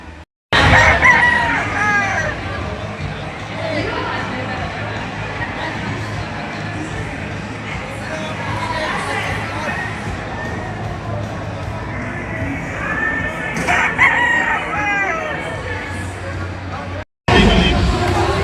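Gamecock roosters crow over and over, close and loud, at a fiesta sale of breeder birds, with a steady babble of crowd noise underneath.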